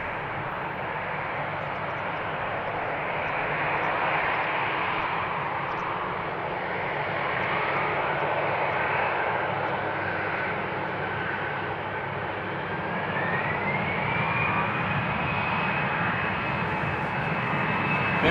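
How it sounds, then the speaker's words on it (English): An EasyJet Airbus takes off at Amsterdam Schiphol with a sustained jet engine roar that rises in pitch with a whining tone, steady and moderately distant, with no voices. "we have an EasyJet Airbus ready to take off"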